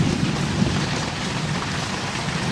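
Hail and heavy rain hammer down on a car, a steady loud dense patter with no pauses and no voices.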